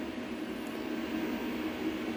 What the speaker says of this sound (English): Sorry about the noise in the background, there's some fans running here